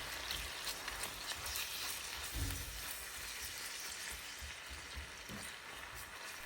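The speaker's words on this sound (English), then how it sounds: "In goes the ground beef. I love the sound of that sizzle." Ground beef sizzles steadily in a pot for a one-pot cabbage dish, a soft continuous crackle with a few louder stir thumps, no talking.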